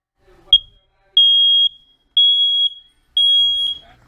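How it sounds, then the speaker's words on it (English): A loud, piercing hard-wired smoke alarm sounds three times in long even beeps while its test button is held, with a brief click and a short chirp just before, otherwise quiet. "you can test out the smoke detector by holding in the test button"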